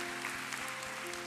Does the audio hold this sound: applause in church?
yes